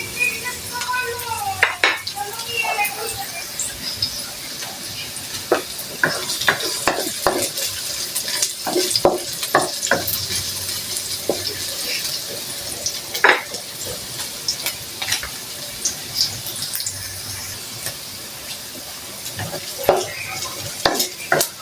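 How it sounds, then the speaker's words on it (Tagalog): Onions sautéing in a pan until golden brown, with a continuous close sizzle broken by frequent spatula scrapes and clinks against the pan, plus brief clatter and faint background sounds. "gigisa lang po natin guys yung sibuyas hanggang sa mag"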